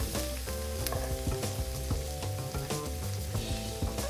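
Onions sizzle steadily in a hot non-stick pan, a dense continuous frying crackle with scattered sharper pops throughout, close and fairly loud with no talking.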